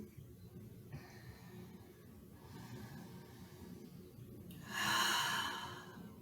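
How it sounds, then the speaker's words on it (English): Deep yoga breathing: slow, quiet airflow through the nose and mouth, then one fuller, louder exhale close to the mic near the end, with no talking. "Big breath in, full breath out."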